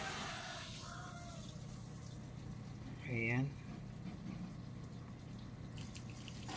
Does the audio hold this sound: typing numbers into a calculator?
no